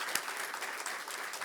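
Steady, dense clapping from a church congregation during Sunday worship, loud and continuous throughout with no voices over it.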